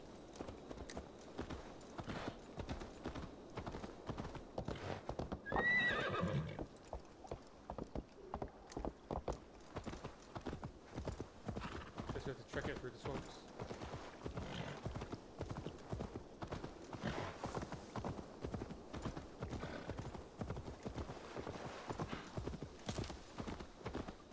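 A horse in the video game Assassin's Creed Valhalla clip-clops along in a steady rhythmic trot for the whole stretch, with one brief neigh early on, heard fairly quietly against outdoor game ambience.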